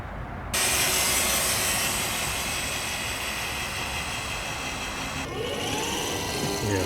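A 2021 Traxxas TRX-4 Bronco RC crawler drives at low speed, its motor and drivetrain giving a loud, steady whirring drone that kicks in abruptly after a brief quiet start and shifts tone near the end.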